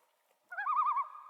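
One warbling common loon call rises out of silence, quavering rapidly before settling into a sustained tone, clear and unaccompanied.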